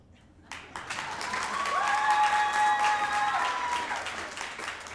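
An audience bursts into applause that swells and holds steady, with a few whoops rising above the clapping.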